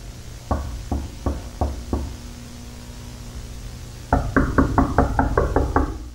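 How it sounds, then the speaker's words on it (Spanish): Knocking on a door, a first run of five sharp raps spaced about a third of a second apart, a pause, then a faster, louder burst of about nine knocks, close and alone over a faint hiss. "No contestes a los golpes de la puerta."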